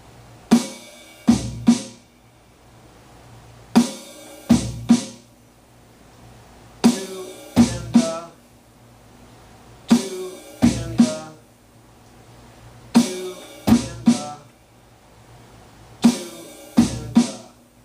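A drum kit plays a bayou funk beat on snare and bass drum, repeating a short syncopated pattern of sharp snare cracks and low kicks several times at a steady tempo. The kit is close and punchy, with quiet gaps between phrases and no voices.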